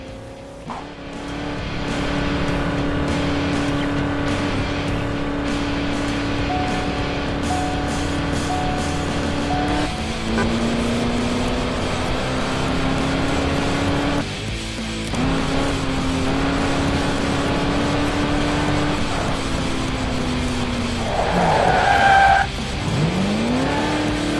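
Cars racing in a pursuit in the video game Alarm für Cobra 11 – Crash Time 5, with a steady loud engine drone whose pitch rises and falls with gear changes and a brief tire screech near the end.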